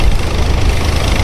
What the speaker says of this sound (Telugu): చాలా హెవీ ఆయిల్ ఇంజిన్స్ అండి